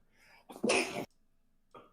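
A single short, sharp sneeze bursts out loud and close in a quiet room, preceded by a small intake of breath and followed by a brief soft voice.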